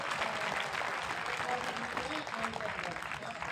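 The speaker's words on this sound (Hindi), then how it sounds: "चाहते हो तो जोरदार तालियां बजाओ" Sustained applause from a large audience at a Hindi poetry gathering (kavi sammelan) in Kota, steady and dense throughout with voices mixed in.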